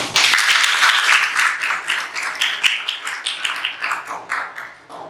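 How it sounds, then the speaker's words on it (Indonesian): Applause from a small group of teachers at the close of a school supervision session in Bali, a steady patter of hand claps that thins toward the end, loud and near, with no talking. "Tepuk tangan untuk kita semua."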